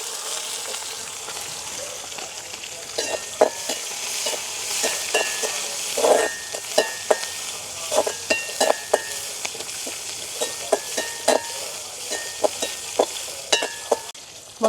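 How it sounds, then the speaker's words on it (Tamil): Mustard seeds and chopped small shallots fry in hot oil, a steady sizzle broken by frequent sharp pops and crackles, with stirring noises throughout. "அதோட வெட்டி இருக்கிற சின்ன வெங்காயத்தையும் போடுவோம்"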